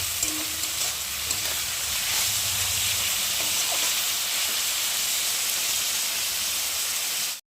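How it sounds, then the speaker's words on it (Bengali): Vegetables fry in hot oil with turmeric and salt for chow mein, giving a steady, close sizzle and hiss with faint stirring that cuts off abruptly at the end. "দিয়ে একটু ভালো করে ভেজে নেব সবজিটা"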